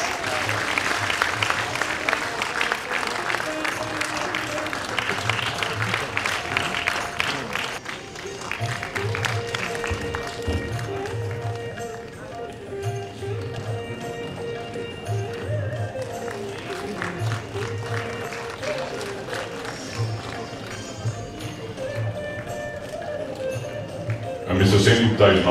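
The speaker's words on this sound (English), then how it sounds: "Ladies and gentlemen, your round of applause please." Audience applause at the Bengaluru International Film Festival 2022 award felicitation, a loud sustained wash of clapping from a large hall crowd lasting throughout, with music and voices mixed underneath.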